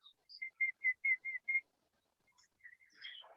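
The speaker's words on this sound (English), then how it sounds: "I can play pop music with whistle." A person whistles a short pop melody, a row of about six clear sustained notes in steady rhythm, then a pause and a few softer, breathier whistled notes close to the listener.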